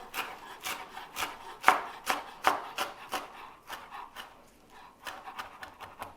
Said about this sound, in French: avec notre couteau, tranquille, on va ciseler tout ça